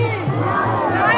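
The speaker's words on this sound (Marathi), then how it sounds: "तांबडा मारुती मंदिराजवळ खूपच गर्दी आहे" Crowd of Warkari pilgrims near the Tambda Maruti temple during the Ashadhi Ekadashi wari to Pandharpur, a dense murmur of many voices with children's shouts rising and falling close by, steady and loud through the whole short stretch.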